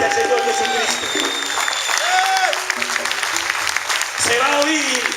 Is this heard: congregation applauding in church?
yes